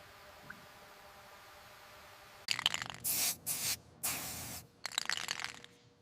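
Aerosol paint sprayed onto cleaned car brake calipers, black paint, from a 1987 Buick Grand National GNX restoration: a quiet pause, then several close hissing bursts of varying length separated by short gaps.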